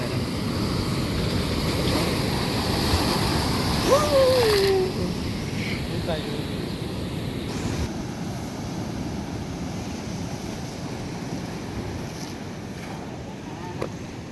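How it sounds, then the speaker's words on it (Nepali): Ocean surf washes and breaks along the shore on the Sydney coast, a broad continuous roar mixed with gusty wind buffeting the microphone, and a brief faint voice in the middle. "यहाँको वेभ हेर्नु वेभ नै खतरा आयो"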